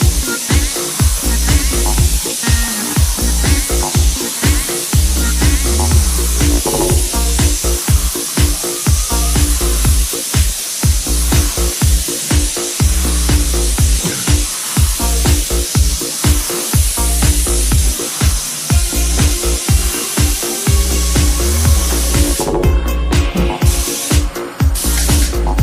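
Spray gun spraying paint onto doors: a loud, continuous close-up hiss with steady pulsing texture and brief breaks as the gun moves across the surface, with a few sharp clicks near the end.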